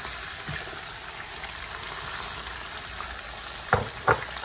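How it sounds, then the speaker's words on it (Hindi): Tomatoes and green chilli fry with mutton in a karahi, giving a steady soft sizzle throughout, with two brief metallic clinks from stirring near the end. "टमाटर और हरी मिर्च डालकर भी हम इसको थोड़ा सा फ्राई करेंगे।"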